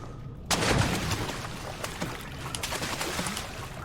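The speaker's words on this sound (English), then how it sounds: "The only splashes there were my own." Footsteps splashing through water in the horror video game Amnesia: The Dark Descent, starting with a sudden loud plunge and continuing as a steady wet sloshing wade, close and with no talk.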